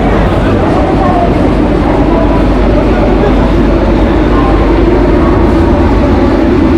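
A local train at Howrah station, a loud continuous low rumble and roar of rolling carriages filling the platform, steady from start to finish with no pauses.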